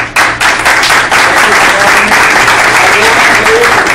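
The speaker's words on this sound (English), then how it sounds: "Give Mr. Black a round of applause." Enthusiastic applause from a meeting crowd, loud and close, with rapid clapping throughout and voices mixed in.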